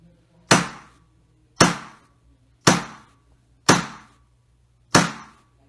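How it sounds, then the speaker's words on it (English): Five sharp, evenly spaced hammer blows ring out as a metal feather is flattened, each strike a bright clang with a short decay, about one per second, close and clear with no talk. "I'm going to hammer it again to make it flat again"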